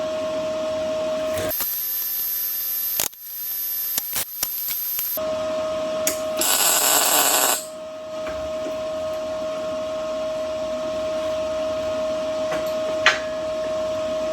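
Tack welding on a custom wheel cut from quarter-inch steel plate: several short, loud crackling arc bursts separated by pauses, over a steady background hum.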